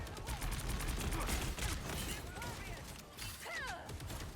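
Rapid Punisher gunfire from a hero shooter video game, with sharp repeated shots and impacts layered into busy combat noise while a voice talks over the action.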